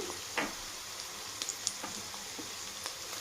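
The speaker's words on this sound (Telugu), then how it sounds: "ఇది పచ్చివాసన పోయేంతవరకు వేయించుకోవాలి" Ginger garlic paste sizzles with onions in a pan for Telugu masala rice, a quiet steady frying hiss with a few small pops and clicks and no talking.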